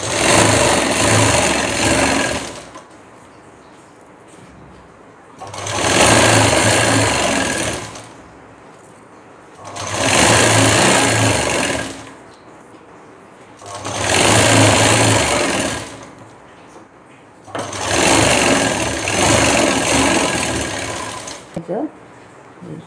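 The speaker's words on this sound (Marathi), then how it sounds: "त्यानंतर आता इथे कडेला शिवून घ्यायचं, ते 1/2 इंचाची टिप टाकायची।" Sewing machine running along a blouse sleeve edge with a half-inch seam allowance, whirring in five steady bursts of about two to three seconds each, separated by short quiet pauses.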